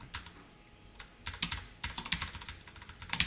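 Quick, uneven bursts of typing on a computer keyboard, light clicks and clacks in short runs with brief pauses, heard close and fairly quiet with no voices.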